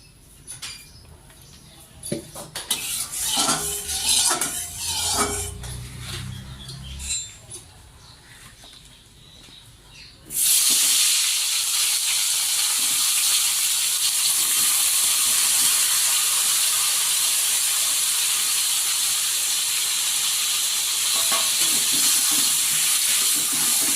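Eggplant coated in spices hitting hot oil in a pan: clattering handling and scraping at first, then a sudden loud, steady hiss of frying that carries on without a break, close by.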